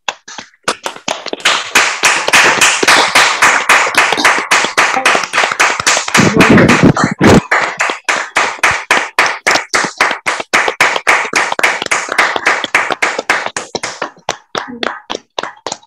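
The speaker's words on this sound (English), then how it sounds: "we just want to do a very, very big round of applause for Francisco and Loli." Clapping from many participants on a video call at a 30th anniversary open house, dense and sustained hand claps heard closely and loudly with almost no talking.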